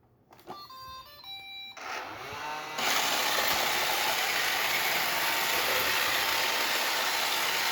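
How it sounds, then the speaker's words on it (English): An old Roomba robot vacuum switching on with a short run of beeping start-up tones, then its motor and brushes settle into a steady, loud whirring hum that fills the rest of the stretch alone. "This generation Roomba starts by going in a circle, and then it'll start doing its normal clean."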